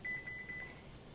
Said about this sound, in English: So let me set our timer for our shrimp.